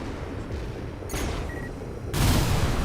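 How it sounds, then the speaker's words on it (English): A rapid salvo of eight missiles launched from a mech in Armored Core VI, a dense rumbling whoosh of overlapping launches with a sharp burst near the middle and a louder blast toward the end. "you can fire up a load of 8 missiles"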